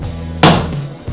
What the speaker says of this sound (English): And we're gonna begin forging these cheeks out.